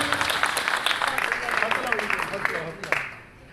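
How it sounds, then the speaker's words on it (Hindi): A crowd at a political gathering in Pundri claps to welcome a speaker, with busy crackling applause mixed with voices and shouting from the audience, tapering off near the end. "जोरदार तालियों से स्वागत करें।"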